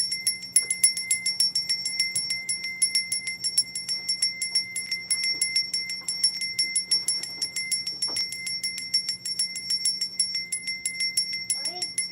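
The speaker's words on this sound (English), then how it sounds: "I'm going to cleanse this energy with the bell before we go." A bell rung to cleanse energy at the close of a spiritual session: repeated bright ringing strikes with sustained tones run steadily throughout, with faint voices in the background.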